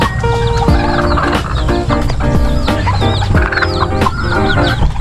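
Chickens cluck and chatter continuously in a small backyard chicken farm, with several birds calling close by in overlapping bursts and a brief crow-like call.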